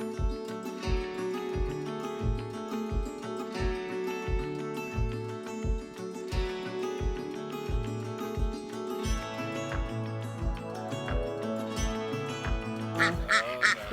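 Ducks quacking in a steady, rhythmic run of loud, close calls from several birds, continuing without pause through the whole stretch on São Miguel Island in the Azores.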